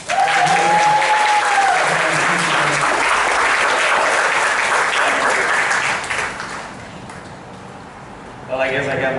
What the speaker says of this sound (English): let's give our brother a warm applause